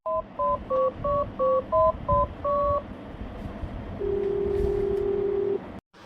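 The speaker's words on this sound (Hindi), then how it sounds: "परेशान होकर वह अपने पति को फोन लगा" A quick series of about eight telephone keypad tones beeps in rhythm, followed by a longer steady ringing tone, then a brief click.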